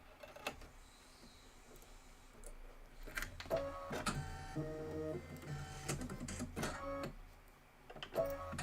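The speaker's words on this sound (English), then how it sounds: "And stitch out those stems. It's going to be 2 minutes of stitching." Embroidery sewing machine stitching mushroom stems, a mechanical whirring drive with rapid rhythmic tonal buzzing and clicks that rise and fall in short bursts, close and moderately loud with no talk.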